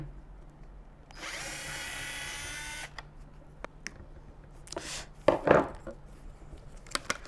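A power tool whirs for a couple of seconds while removing the speaker units and binding posts from a speaker, followed by scattered clicks, knocks and handling clatter at moderate distance.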